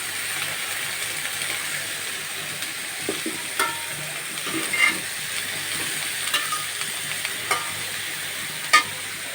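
Bitter gourd is frying in a pan with onion and a little turmeric, giving a steady close sizzle with occasional stirring scrapes and a few sharper clicks, with no talking.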